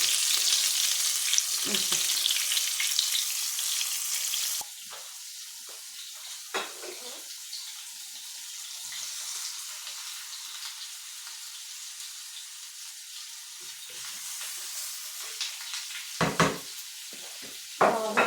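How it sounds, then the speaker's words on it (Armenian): Loud, steady sizzle of a mushroom dish frying in a pan, a sharp burst as garlic and onion go in, then a lower frying hiss with occasional stirring scrapes, no talk. "Հիմա կավելացնենք սխտորը և սոխը։"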